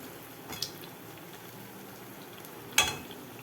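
Vada fry in oil in a pan with a quiet, steady hiss and sizzle, broken by two brief, sharper crackles.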